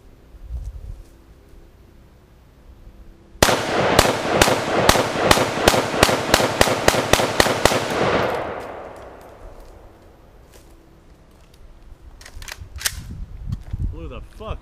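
A rapid string of gunshots, hollow points and full metal jackets, slams into an air compressor in a backyard, about a dozen loud sharp cracks in quick succession followed by a fading ring, with quieter sounds afterward.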